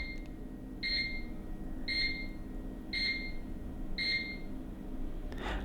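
A Bosch HHF113BR0B oven timer beeps in a steady pattern, four evenly spaced double-tone beeps about a second apart, moderately loud over faint background hum.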